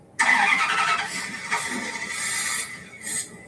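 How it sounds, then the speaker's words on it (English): A car engine is cranked with an engine spinner to draw fuel up, giving an abrupt, loud, whirring churn with a high squeal that runs steadily for about three seconds before easing off. "I'm gonna get the engine spinner and it'll pump some fuel up here"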